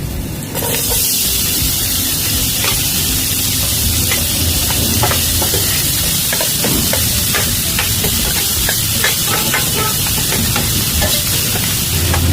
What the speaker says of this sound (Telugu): ఇప్పుడు ఇందులో ముందుగా తరిగి పెట్టుకున్నటువంటి ఉల్లిపాయ ముక్కలు వేసుకున్నాం.